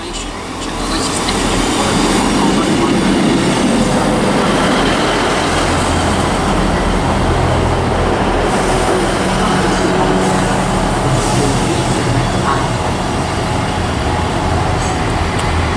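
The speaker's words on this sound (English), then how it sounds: "another 158, the 1622 Northern service from Leeds to Nottingham" A Class 158 diesel multiple unit roars past close by at Chesterfield station, a steady loud rumble of engine and wheels lasting throughout with no pause.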